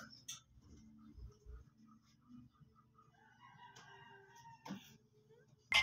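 A red chicken opponent in the Manok na Pula video game crows faintly amid sparse game sounds and clicks, with a short bright burst at the very end.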